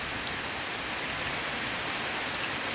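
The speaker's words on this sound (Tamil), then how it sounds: "ரொம்ப நாளுக்கு அப்புறம் மழை பெய்யுது." Steady rain falls outdoors after a long dry spell in November, a dense, even hiss of drops on surfaces that holds constant throughout with no voices.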